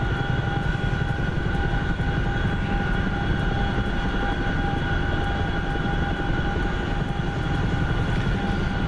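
A Chinook helicopter in a flight simulator game flying in winter, giving a steady, loud rotor and engine drone with constant whine tones that never let up, alone with no talk.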